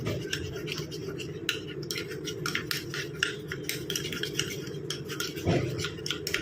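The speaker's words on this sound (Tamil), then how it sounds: "1 ஸ்பூன் அளவுக்கு நான் கோதுமை மாவு ஆட் பண்ணிக்கிறேன். அதையும் நல்லா இதில் வந்து கலந்து விட்டுக்கலாம்" A spoon stirs a face cream mixture of wheat flour and potato juice in a bowl, giving a steady, close scraping and rubbing texture with repeated short strokes throughout, no voice.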